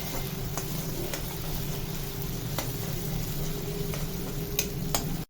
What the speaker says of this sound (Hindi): चम्मच चलाएंगे।